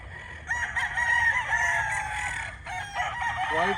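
Roosters and hens, including a local stag, crow loudly and cluck close by in a farmyard, one drawn-out crow filling most of the stretch followed by shorter calls and clucks, with no talk.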